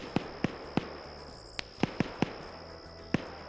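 Sharp single gunshots crack out at irregular intervals in a multiplayer shooter video game, about eight reports in a few seconds, moderately distant, over a faint background hum and insect-like chirping, with no talking.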